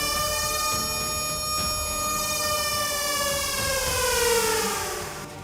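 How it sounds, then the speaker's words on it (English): A wailing siren rises and falls continuously, loud and steady with a sweeping pitch throughout, no voices present. "the sirens went off."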